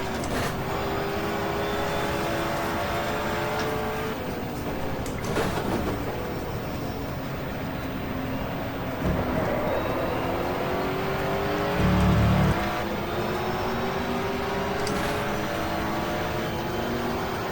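A 1987 British Touring Car Championship touring car races at Silverstone, its engine droning loud and steady throughout with rising revs and a slightly fumbled gear change, heard up close from onboard.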